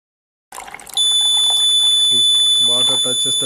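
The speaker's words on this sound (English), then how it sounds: "water touches the top sensor and the 4 LEDs are glowing and the buzzer is giving alarm" A DIY water level indicator buzzer sounds a continuous high-pitched electronic alarm tone once water touches the top sensor, steady and loud, while a person talks over it.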